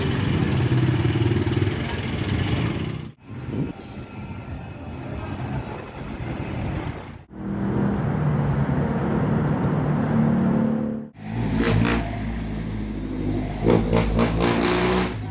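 Noisy street traffic in Manila, Philippines, including jeepneys converted from old military vehicles, makes a loud, continuous roar of revving engines and motorcycles with brief lulls, while a voice talks over it.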